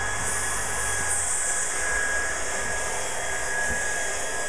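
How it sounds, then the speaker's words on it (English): A powerful blow dryer runs at full force to loosen floor tiles being pulled up, giving a loud, steady, unbroken rushing roar throughout with no pause. "You still want to operate the... Yes. The powerful blow dryer?"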